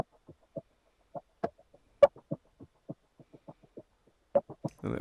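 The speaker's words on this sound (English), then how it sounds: "and then I added like this perk loop" Percussion loop in a vocal sample beat, a steady run of soft knocking taps in a repeating pattern, quiet and close, with a brief swell of noise at the very end.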